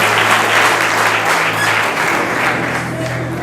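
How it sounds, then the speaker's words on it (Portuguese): A church congregation claps together in sustained, dense applause at an evening congress service, loud and steady throughout, with a faint voice briefly audible underneath. "Aplauda Jesus, queridos."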